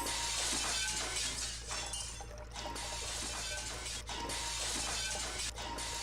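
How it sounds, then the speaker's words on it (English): A glass tank cracking and breaking apart, sharp bright crackles and tinkling shards scattered over several seconds above a low steady hum. "This time I hear the high-pitched noise of glass cracking"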